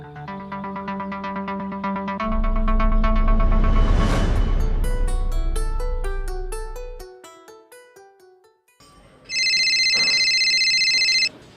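A telephone ringtone plays a loud, melodic chiming phrase that swells and fades, then a sustained electronic ring tone follows after a brief pause.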